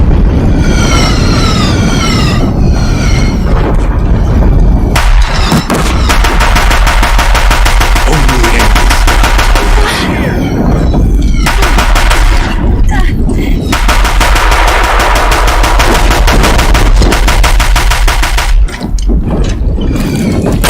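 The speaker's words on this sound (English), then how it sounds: "If the Deathbringers keep firing, this bridge will go." Deathbringer war machines in Horizon Zero Dawn's final battle at Meridian pour out sustained, loud machine-gun fire, a dense continuous rattle with rumbling impacts and game music, and a voice briefly heard early on.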